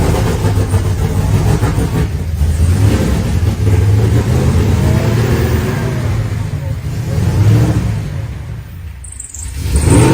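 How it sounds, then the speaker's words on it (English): A car engine with a Whipple supercharger runs loud and revs, while people talk over it. A brief high squeak from the pulley cuts through near the end. "Did you hear the Whipple pulley squeak"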